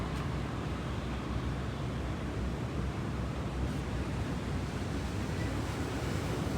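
Wind blows at a ferry crossing on the Lena River, making a constant faint broadband rush, like buffeting against a microphone, with no distinct gusts and no talking.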